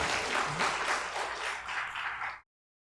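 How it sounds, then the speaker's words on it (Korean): Congregation applauding during a Sunday church service, a dense steady wash of many hands clapping for over two seconds before stopping abruptly into silence. "우리 박수 한번 쳐주세요."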